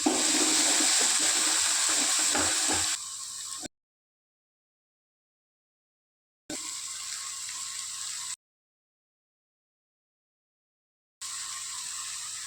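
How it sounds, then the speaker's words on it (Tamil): Water poured into a cooking pan of sautéed onion, tomato and turmeric masala, a loud steady rush and hiss in several separate bursts with silent gaps between, no talking. "தண்ணி ஊற்றிக்கலாங்க."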